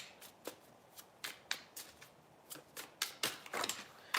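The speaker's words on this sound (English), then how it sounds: "So I'm going to go ahead and start throwing cards down." Tarot cards being shuffled and then tossed down one by one in a reading, a run of crisp close papery snaps and flicks at uneven intervals, getting busier toward the end, with no voice.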